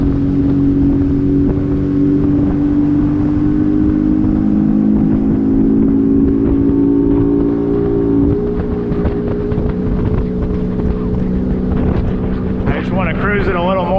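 A motorboat engine running steadily as the boat cruises on the water, a boat out for its second outing in 15 years, with a sustained low drone and wind noise, and a voice talking briefly near the end.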